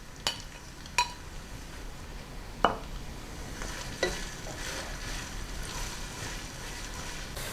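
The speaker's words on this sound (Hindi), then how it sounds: "पैन में हमने 1 कप ऑयल लिया है और इसमें हम ये स्लाइस की हुई प्याज डालेंगे" Sliced onions fry in a cup of oil in a pan, making a steady, close sizzle punctuated by several sharp knocks of a spoon against the pan.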